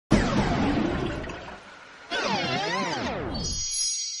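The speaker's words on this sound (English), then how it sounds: "Now you notice when I use the unfarkle power, mojo water drained out of it." Mojo water drains away in the Super Farkle game as a gurgling, whooshing cartoon effect: a rushing pour, then a wobbly bubbling drain with sweeping pitch, ending in a bright chime.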